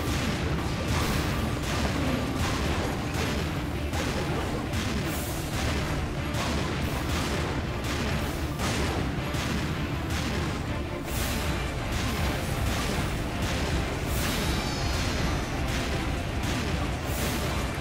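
Repeated booming cannon blasts in the game Serious Sam 2, firing in a steady, dense rhythm with a constant roar of battle noise underneath, loud and continuous.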